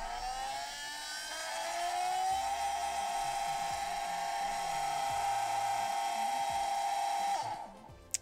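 RC sensored brushless motor, timing advanced 10 degrees, revved to full throttle around 23,800 RPM: a high whine climbs quickly, holds a sustained loud pitch for several seconds, then winds down sharply, ending with a click.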